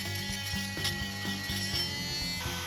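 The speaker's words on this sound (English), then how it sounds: "Then I cleaned up the opening with my oscillating tool." Oscillating multi-tool buzzing and rasping against wood, with short repeated bursts and pauses, close and fairly quiet, as it cleans up a cut opening for a hidden bookcase door.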